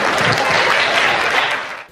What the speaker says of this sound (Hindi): जोरदार ताली बजाइए रोहित पांडे।